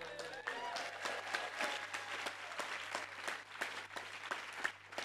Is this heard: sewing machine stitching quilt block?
no